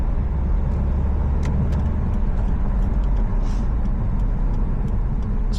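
A 2018 Subaru WRX STI all-wheel-drive sedan driving through a Winnipeg winter, heard from inside as a loud, steady low road and engine rumble with faint clicks and ticks over it.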